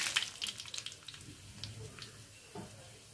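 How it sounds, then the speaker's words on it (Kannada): Mustard seeds hitting hot oil for a Kerala-style mango curry tempering, a faint crackling sizzle with scattered pops, strongest at the start and then fading, close by. "ಎಣ್ಣೆ ಕಾದಿದೆ, ಸಾಸಿವೆ ಹಾಕೋಣ"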